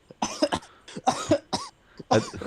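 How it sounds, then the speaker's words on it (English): Three harsh coughing fits close to the microphone, each a cluster of rough bursts, with short breaths in between. "I had a cough"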